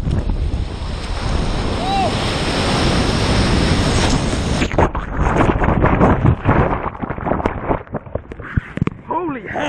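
Ocean waves crash and surge loudly against a rider on a hoverboard out at sea, with heavy wind buffeting the microphone, followed by choppier splashing and water slaps.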